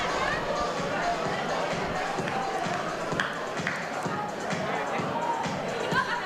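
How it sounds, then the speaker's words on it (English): A big crowd at a Navy vs Marines rugby match gives off a steady murmur of hubbub and movement, with a commentator talking over it throughout. "There's a big crowd in the house."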